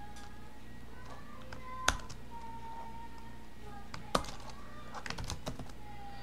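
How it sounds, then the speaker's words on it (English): Close typing on a computer keyboard while writing a Python program: scattered key taps and a few louder keystrokes over quiet room hum. "And we'll type in print."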